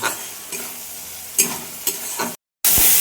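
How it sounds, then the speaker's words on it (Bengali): Spice paste for a prawn curry frying and being stirred in a pan, a steady close sizzle with scraping stir strokes every half second or so, a brief cut, then louder sizzling as it resumes. "এবার জল দিয়ে ভালো করে কষাবো, যখন তেল ছেড়ে দেবে তখনই আমি আসল জলটা দেবো"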